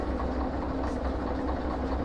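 Diesel locomotive from the Derail Valley train simulator idling steadily, a low continuous engine rumble with faint mechanical rattle, close and alone without any voices.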